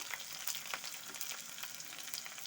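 Raw rice, slit green chillies and potato sizzle in hot oil with tempered spices, a steady close frying crackle with small pops and stirring scrapes throughout, no talking.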